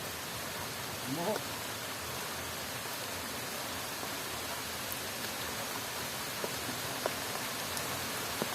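Steady rain patters on surfaces, a dense, even hiss throughout with occasional louder drips, and a brief indistinct sound near the start.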